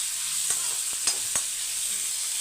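Two chopped medium-sized onions fry in hot oil in a pan, a steady soft hiss with a few faint stirring clicks and scrapes, close and even throughout.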